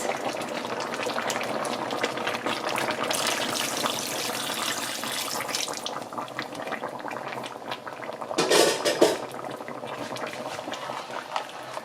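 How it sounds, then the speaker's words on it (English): Water poured into a bowl holding leftover curry seasonings during a lobster claw, shrimp and potato curry, a steady liquid pouring and sloshing with a louder splashing burst near the end, no voices. "we're gonna put some water in the bowl to get all those seasonings out"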